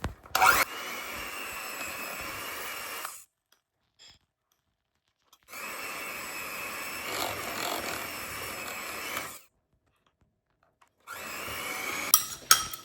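Nankhatai cookie dough is worked with an electric mixer that whirs steadily in three bursts. Each run lasts a few seconds, with silent pauses between them, and the sound is close and moderately loud.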